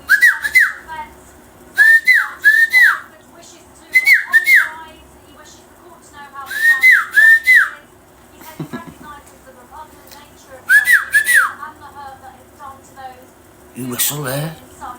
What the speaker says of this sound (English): You whistle there?